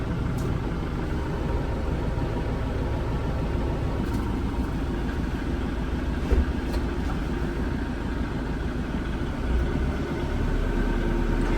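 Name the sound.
tractor engine running after refuelling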